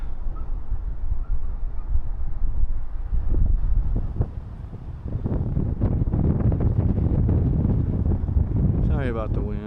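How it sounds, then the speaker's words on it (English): Gusty wind buffeting the microphone on a walking trail near Swinbrook in the Cotswolds, loud rumbling blasts that ease briefly midway, with a person talking through it and a faint honk near the end. "Sorry about the wind."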